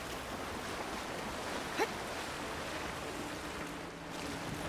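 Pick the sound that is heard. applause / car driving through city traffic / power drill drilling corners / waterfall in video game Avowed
waterfall in video game Avowed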